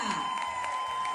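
Studio audience applause for an actress and comedian on a Dominican morning TV show, a short burst of dense clapping with some cheering under a steady background tone.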